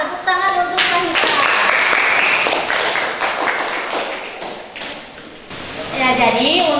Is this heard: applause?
yes